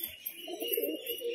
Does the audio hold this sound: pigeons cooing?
yes